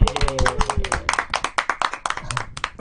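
An audience claps at an English community gathering on popular music icons, a few seconds of scattered, uneven hand claps close by with a voice speaking over the start.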